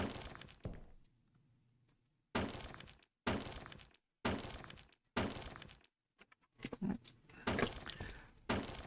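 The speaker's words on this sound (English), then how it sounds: "Crowbar to dispose of the junk cluttering this place." A crowbar smashes junk in the video game Hotel Renovator, giving several loud, sharp breaking and shattering impacts in rapid bursts separated by brief quiet gaps, with clattering debris and no talk.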